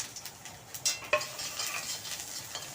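Ginger paste hits hot oil with dried red chilli, bay leaf, cumin and fenugreek, giving a steady sizzle with scraping stirs and a few clinks of a utensil against the pan.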